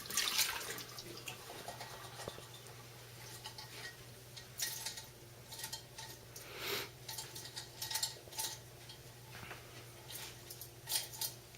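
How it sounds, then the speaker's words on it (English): A cooking pot being rinsed under a running tap in a kitchen, a faint trickle of water with scattered clinks and splashes as it is swirled, quiet and close with no voices. "One final rinse."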